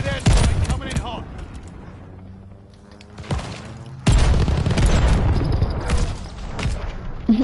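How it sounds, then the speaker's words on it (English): Airstrike explosions and gunfire in the shooter game Call of Duty: Vanguard: loud blasts and rapid shots burst out, fall to a quieter lull, then a heavy, sustained rumble of explosions and firing fills the second half. "Allied airstrike coming in hot."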